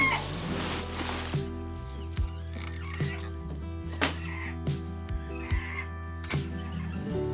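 Chickens cluck and call repeatedly in a movable farm coop, with short bursts recurring steadily over a constant humming background.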